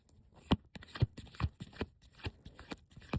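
Tarot cards are shuffled by hand at close range, giving a series of crisp riffling slaps and soft papery flutters in an irregular rhythm, with no talking.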